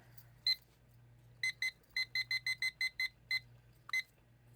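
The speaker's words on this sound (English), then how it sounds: "So I'm going to set a timer." An electronic alarm beeps in quick high-pitched pulses, a few scattered then a steady run of rapid beeps, over a faint low hum.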